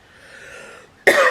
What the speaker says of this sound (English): oh no, don't start coughing.